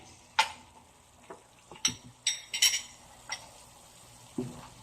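Beef and young corn stirred in a frying pan, with a spoon scraping and clinking against the metal in irregular bursts over a faint sizzle, close and fairly quiet.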